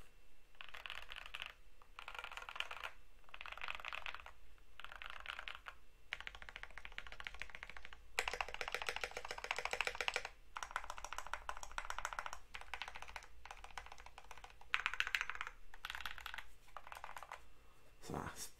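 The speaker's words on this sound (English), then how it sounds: "I'm just going to tap a little bit on this thing, and then I'll do a little typing test." A KBD67 mechanical keyboard is typed on in quick bursts of clicky keystrokes with short pauses between them. A denser, continuous run of typing comes in the middle, all close to the microphone.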